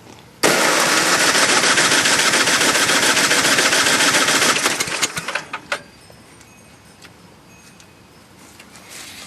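A John Deere 1026 tractor engine cranks into a loud, rapid chugging on a cold start, runs hard for several seconds, then sputters with a few uneven bursts and dies, leaving quiet background.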